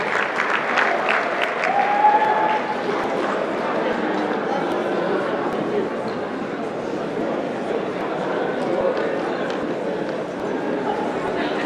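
Audience applause at a netball championship closing function and awards ceremony gala dinner, a steady wash of clapping filling the room with crowd murmur and voices mixed in throughout.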